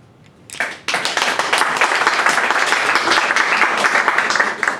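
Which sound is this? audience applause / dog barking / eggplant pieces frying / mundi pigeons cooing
audience applause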